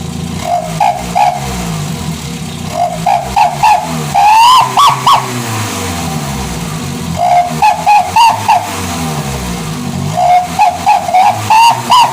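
A petrol car fitted with a Srigala HKS exhaust revs in repeated bursts, each throttle blip climbing to a loud, raspy wail before dropping back to a rumbling idle, close and dominant throughout.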